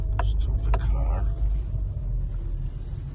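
A car on a gravity hill road slows to a stop, its engine a steady low rumble throughout, close and continuous with a few faint clicks near the start.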